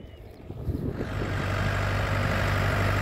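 A T-40AP tractor engine rumbles heavily while dragging a chain harrow, starting a little uneven and settling into a constant low drone that holds to the end.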